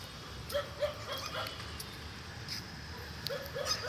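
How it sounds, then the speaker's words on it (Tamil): A dog at night in a cemetery lets out scattered short barks and yips, some in pairs, at a moderate distance over a quiet, hissy background. "நாய் நான் வந்ததுலேருந்து கொலிச்சுன்னே இருக்குது"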